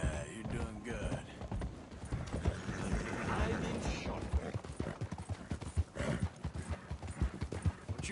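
Horse hooves clip-clop in a steady rhythmic gait in Red Dead Redemption 2, with a whinny near the start, close and clear beneath people talking.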